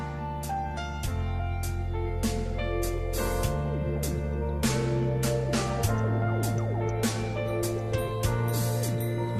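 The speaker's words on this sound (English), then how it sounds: "That's the sound of a minute repeater, which is a feature on some models." A watch's minute repeater chimes the time, clear tuned strikes ringing out in a steady sequence of low and high notes, each one decaying over a sustained tonal background.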